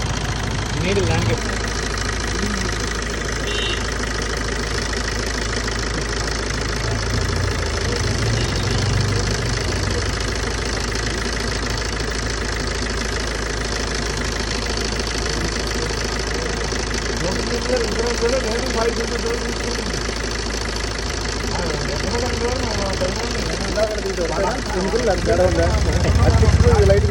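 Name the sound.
Maruti Ritz car engine idling, knocking after carbon cleaner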